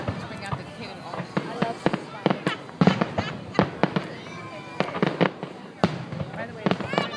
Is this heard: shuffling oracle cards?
no